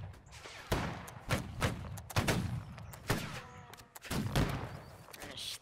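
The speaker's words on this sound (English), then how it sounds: "Keep firing at their heads, guys." Gunfire in a line battle video game event: scattered and overlapping musket-like shots crack and thump in irregular bursts, some near and some distant, forming a ragged volley.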